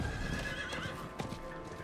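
A summoned horse arriving in Diablo IV, its hooves clip-clopping in quick rhythm as it draws near, with a whinny mixed in, loud and clear, with no talking.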